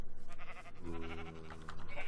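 Sheep bleating in a video game, one wavering, drawn-out bleat rising over a dense, busy backdrop of game sound and faint voice.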